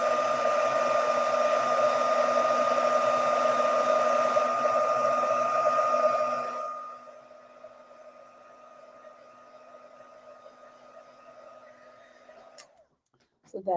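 A heat tool blowing over gold embossing powder on a stamped card, a steady loud whirring roar with a constant hum, which drops abruptly to a faint, quieter hiss halfway through and then cuts off with a click.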